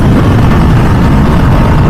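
The exhaust of a 2023 MV Agusta Dragster 800RR SCS motorcycle gives a loud, continuous, close, low rumbling roar that stays steady and dense for the whole short stretch.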